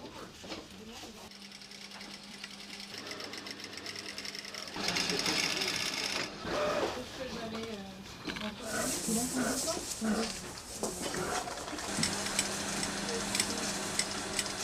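A sewing machine stitches a horsehair ribbon onto the underskirt of a pleated Dior garment of black tulle, whirring in steady bursts at close range while people talk over it.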